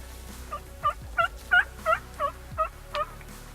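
A wild turkey tom gobbles about 50 yards away during a spring hunt, a run of eight quick, loud rattling gobble bursts over a few seconds with faint low background noise.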